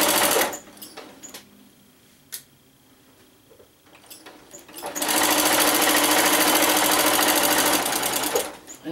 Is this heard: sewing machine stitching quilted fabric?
yes